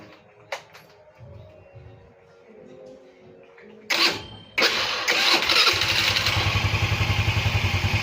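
A Kawasaki K-Blade 12 motorcycle with a faulty starter Bendix cranks after a few faint knocks, then the engine catches and settles into a loud, steady, pulsing idle up close.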